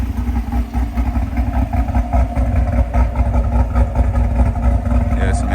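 A Camaro ZL1 idles with a deep, loud, lumpy thump, its engine pulsing steadily close by throughout.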